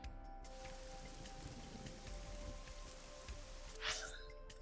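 Steady rain in the video game AI: The Somnium Files, a soft continuous hiss of falling drops with a brief brighter swish near the end, no talking.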